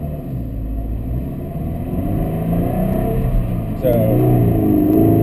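A Subaru BRZ's exhaust drones loudly as the engine revs, the pitch rising and then jumping sharply near the end, with someone talking over it.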